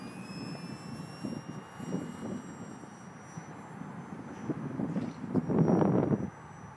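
An FMS P-47 800mm electric RC model plane on a 1300 mAh battery takes off into the wind at about half power. A thin motor whine sits under heavy wind buffeting on the microphone, swelling louder near the end.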